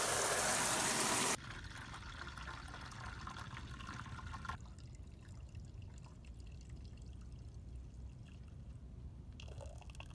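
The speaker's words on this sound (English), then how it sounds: "Take my shower." A shower runs inside a Ram Promaster camper van. A loud rush of water at the start drops to a steadier, quieter patter that carries on, faintly shifting, for the rest of the clip.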